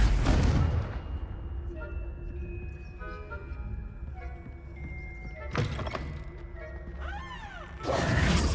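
Confringo fire spell cast in Hogwarts Legacy, with a burst of fiery blasts and thuds and creaking mechanical game effects among tonal chimes, with a short louder impact near the end.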